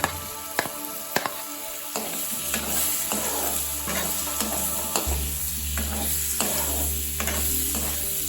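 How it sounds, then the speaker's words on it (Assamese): Onions sizzle steadily in butter in a hot pan while a utensil stirs and scrapes them, with several sharp clinks against the pan. "এনেদৰে আমি বাটাৰত পিঁয়াজখিনি ফ্ৰাই কৰি ল'ম।"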